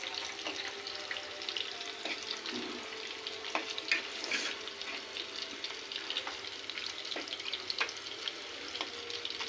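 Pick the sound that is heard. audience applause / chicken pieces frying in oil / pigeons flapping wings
chicken pieces frying in oil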